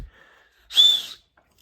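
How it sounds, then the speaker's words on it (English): A survival kit whistle gives one short, shrill, breathy blast lasting under half a second, close and loud, after a faint preceding breath. "it's got a whistle"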